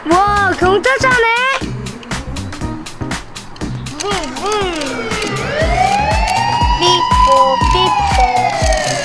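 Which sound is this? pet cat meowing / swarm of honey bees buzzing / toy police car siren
toy police car siren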